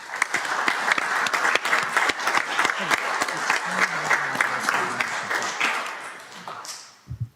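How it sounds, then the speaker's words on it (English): City council meeting audience giving a round of applause, a full room of sustained clapping with sharp individual claps, tapering off at the end as a voice speaks briefly beneath. "everybody just give them a round of applause"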